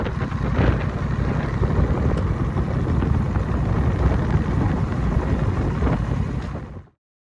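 Honda Rebel 1100 motorcycle fitted with a T-Rex windshield, ridden on the road: a steady, loud rush of engine rumble and wind buffeting for about seven seconds, then an abrupt cut to silence, no talking.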